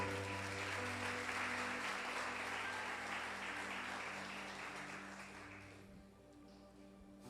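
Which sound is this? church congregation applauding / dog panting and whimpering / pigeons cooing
church congregation applauding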